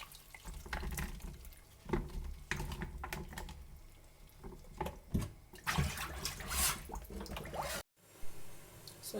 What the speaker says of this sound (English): we'll go ahead to strain the water out from the potato